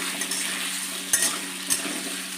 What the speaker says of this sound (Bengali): এগুলো একদম লাল করে ভেজে নেব